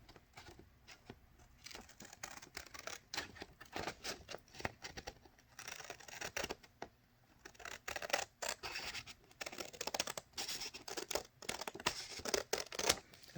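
Scissors trim paper pattern pages for a sewing pattern, snipping and crinkling close by in quick, uneven bursts of cuts.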